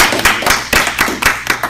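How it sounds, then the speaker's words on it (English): A small audience claps in a brief, fairly regular run of distinct, close hand claps for a speaker named Dennis as he comes up to talk at a diabetes event. "give him a round of applause"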